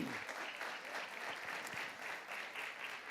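A congregation applauds the Lord during a Portuguese-language church worship service: steady, dense clapping from many hands fills the room without a break, with no speech over it.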